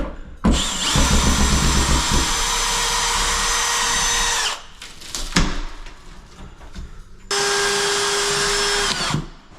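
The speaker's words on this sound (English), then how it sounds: "I'm actually using a drill to remove this because it's a lot easier" A power drill whines loudly in two long runs, with clicks and rattling of long drywall screws being backed out in the pause between.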